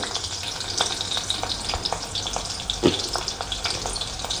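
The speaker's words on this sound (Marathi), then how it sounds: "तेल गरम झालं आहे आता लसूण टाकूया लसूण टाकलेलं आहे थोडासा हिंग" Garlic and a pinch of asafoetida frying in hot oil for a spinach dish, a steady close sizzle with scattered crackles and light spoon scrapes, one sharper pop near the end, no voices.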